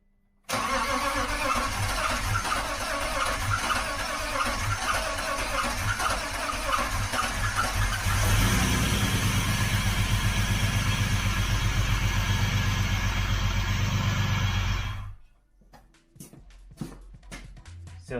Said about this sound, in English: I'm going to install it now and then turn on the car real quick, see how it sounds